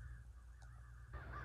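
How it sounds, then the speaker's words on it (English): Birds call faintly in the distance, a crow-like caw standing out over a low background rumble. "as you can hear"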